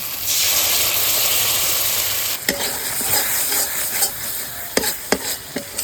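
Poppy seeds hit hot oil and spice paste with a loud, dense hiss of frying, which then settles into a softer sizzle punctuated by sharp scrapes and knocks of stirring.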